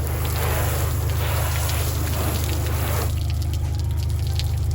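Water trickles and patters steadily off the ceramic-coated surface of a Piper M600 aircraft, a soft continuous runoff with a low engine-like hum underneath.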